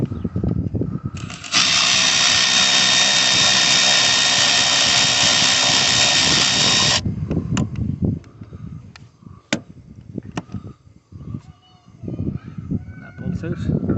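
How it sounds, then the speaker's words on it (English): An electric ratchet spins off the top bolt of a front suspension strut on a Renault Trafic or Vauxhall Vivaro van, in one loud, steady whir of about five seconds, close up, followed by clanks and someone talking. "if you've got an electric ratchet, we'd much rather use that."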